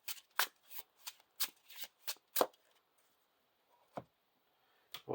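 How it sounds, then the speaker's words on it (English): Rapid riffling of playing cards, a quick burst of crisp flutters followed by a few isolated taps and snaps, close and clear. "And then shuffle this Tree People back into our deck."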